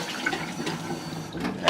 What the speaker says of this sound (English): rinse and wash out my soap bowl